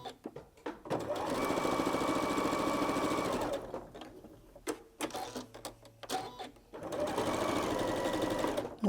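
A sewing machine stitches quilt pieces in steady whirring runs, two sustained bursts of rapid needle chatter with a pause between filled by fabric handling, clicks and a brief voice.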